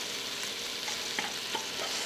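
Onion, garlic and rice fry in a pan for a soup, a continuous close sizzle with a couple of brief scraping stirs and no talk.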